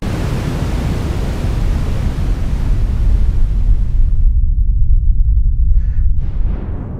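Dense hiss from a Feedback Modules Static synth module, loud and continuous, its bright upper end fading away toward the end so the noise shifts from pink to a darker, bass-heavy rumble.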